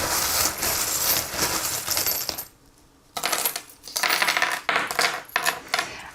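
Small metal charms are cast onto a table for a reading, giving a bright jingling clatter of many pieces, then a brief pause before more scattered clinks and taps settle close by.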